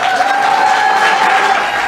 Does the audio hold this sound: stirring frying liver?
no